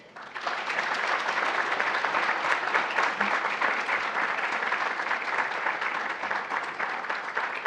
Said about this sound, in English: Would you give a round of applause for outstanding dedication to the chapel to Mackenzie Wiles?